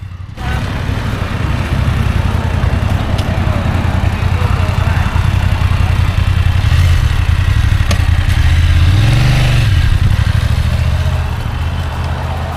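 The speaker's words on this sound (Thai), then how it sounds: "เสียงท่อโคตรดีเลยอะรถบ" A BMW F900GS 900cc adventure motorcycle engine runs with a deep, steady exhaust rumble, close by, rising briefly as the throttle is revved.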